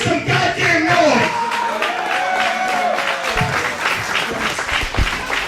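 A wrestling crowd at a thumbtack deathmatch applauds and cheers, dense clapping and shouting holding steady throughout at close, loud level.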